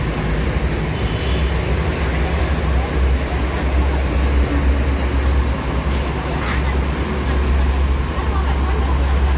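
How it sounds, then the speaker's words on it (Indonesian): Interior of a bus departing, a steady loud engine drone with low rumble and road noise throughout, with faint voices underneath. "Bus akan berangkat."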